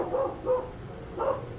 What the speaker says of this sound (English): I'm sorry for the dog.